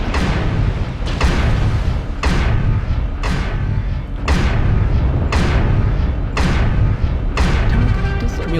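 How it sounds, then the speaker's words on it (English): A rapid run of heavy artillery-strike explosions in the mech combat game MechWarrior Online, roughly eight loud booming impacts about a second apart, each with a rumbling tail that blends into a dense, continuous barrage. "Artillery strike."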